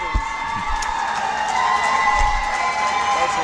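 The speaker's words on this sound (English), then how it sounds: "That's a big cheer." A large crowd cheers and whoops at a world puzzle championship pairs final, a loud sustained roar with shrill high voices, steady throughout.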